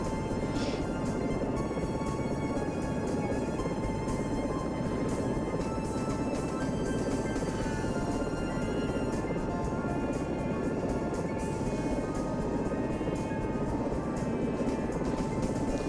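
Steady helicopter rotor and turbine drone from the video game SAR4 as the aircraft settles in for a soft landing, a dense continuous roar that holds at an even loudness throughout, with no voices.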